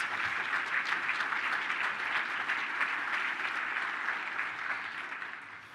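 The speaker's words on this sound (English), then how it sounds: "Let's give them a round of applause." At a regional luncheon, an audience gives the board of directors a sustained round of applause, a thick, steady clatter of many hands that fades slightly toward the end, with no speech.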